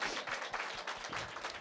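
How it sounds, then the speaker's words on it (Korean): A church congregation gives a round of applause during a sermon service, heard as soft, fairly distant clapping with distinct hand claps in a loose, uneven rhythm, quiet overall. "우리 그리스도 예수 그리스도께 박수를 좀 영광의 박수를 올려드리겠습니다"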